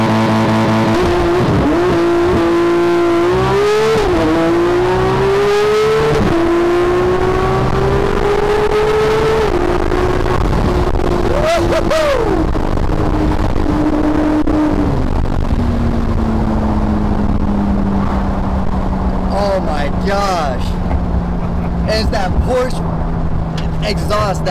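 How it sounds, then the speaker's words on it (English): A Porsche accelerates hard with a loud exhaust note, the engine pitch climbing through gears with shifts and a brief rev flare, heard from inside the car while people talk over it. "I love the Porsche exhaust when it has that symphony note."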